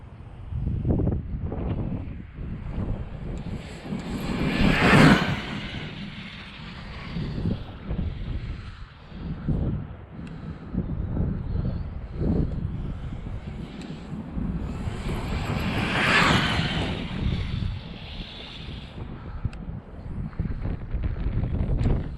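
A 12s Arrma Kraton RC car with a sensored Castle 2028 800kv motor and MGM ESC runs in broadband, wind-like rushes that swell loudly twice as it passes near, with no talk.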